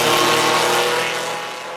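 A historic Formula 1 car drifts past at Hawthorns corner, Brands Hatch, its loud engine tone sweeping by close and then fading slightly as it pulls away.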